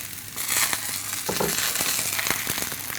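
Chopped eggplant tipped into hot oil in a pan sets off a loud, steady sizzle of frying, with crackling bursts and scraping stirs on top. No one speaks.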